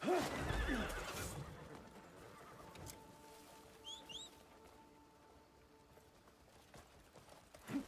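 A horse in the video game Crimson Desert gives a loud whinny at the start, followed by faint hoof clops and quieter game ambience, then another brief neigh at the very end.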